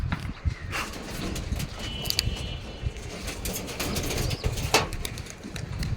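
Pigeons flutter and flap their wings in bursts over a steady outdoor murmur, with soft rustling throughout and no talking.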